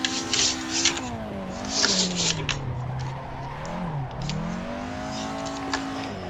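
Drift car in Assetto Corsa revving hard with a sweeping, rising and falling engine note, tires squealing and scraping sounds as it slides near a wall on the Ebisu school course, loud and continuous.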